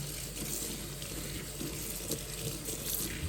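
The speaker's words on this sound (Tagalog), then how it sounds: "Yung hugasan natin ang lettuce. Hindi na natin yan sabunan siya" Tap water running steadily into a sink while lettuce is rinsed, a soft continuous splashing flow close by with faint handling sounds and no speech.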